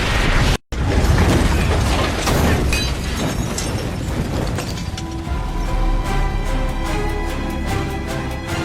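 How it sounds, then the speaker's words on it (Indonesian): Cars in a prison parking lot blow up one after another in a film scene, with a dense roaring blast and crackling debris, then a lingering rumble and scattered metallic clatter, loud throughout. "Satu persatu mobil di area penjara meledak secara bersamaan."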